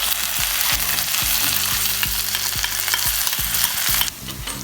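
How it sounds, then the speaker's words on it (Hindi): Ginger garlic paste sizzles loudly in hot oil while a spoon stirs it with repeated scraping strokes against the pan, close up and steady, with no voices, as part of making chicken tikka biryani. "अदरक लहसुन का पेस्ट मैंने 1 मिनट के लिए फ्राई कर लिया।"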